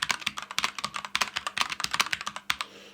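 Keys clack rapidly on an NZXT Function mechanical keyboard fitted with red switches, a close, loud run of crisp strikes in an uneven typing rhythm that slows and stops near the end.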